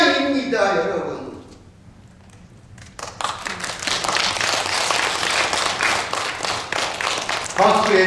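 Voices at first, then a pause before an audience at a Catholic priest's lecture bursts into sustained applause, many hands clapping together until talk resumes near the end.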